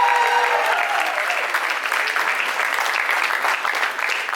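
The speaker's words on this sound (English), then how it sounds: "Can we make that round of applause louder, bigger?" Loud audience applause fills the hall at the Aarya Season 3 trailer launch, dense continuous clapping with faint cheering mixed in throughout.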